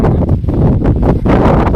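Loud, gusty wind buffets the microphone in a steady roar over a cotton field, with faint rustling of plants underneath.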